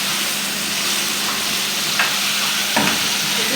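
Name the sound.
stirring chicken jalfrezi with dry spices in a pan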